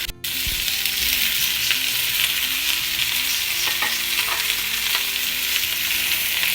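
Tomato hitting a hot pan for a fish-and-vegetable rice dish, frying with a steady, loud sizzle throughout and a few soft clinks of stirring, no voices.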